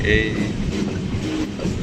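Sealdah–Diamond Harbour local train at Diamond Harbour station, a short stretch of steady carriage rumble with a brief high tone near the start, voices talking over it.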